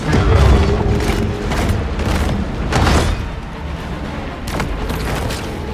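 Torpedo blasts in the Maneater video game land as a rapid string of deep, booming explosions with rumbling tails, loud and close, with no voices over them.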